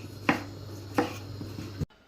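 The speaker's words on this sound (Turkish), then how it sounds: "domateslerimizi doğradık" A few sharp knife chops through tomatoes on a cutting board, spaced unevenly, with a low steady hum underneath, ending abruptly.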